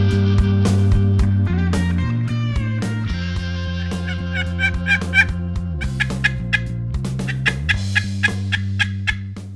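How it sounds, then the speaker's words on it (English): Wild turkeys gobbling in a valley during a hunt, repeated loud gobbles and double gobbles overlapping from several birds, with sharp rhythmic bursts standing out clearly against quiet surroundings. "they were gobbling, double gobbling on top of each other"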